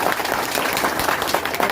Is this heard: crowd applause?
yes